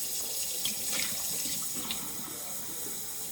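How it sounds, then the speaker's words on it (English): Hot water runs steadily from a tap into a sink, a constant close splashing stream that carries on alone through the whole stretch. "And then I'm going to add some hot water."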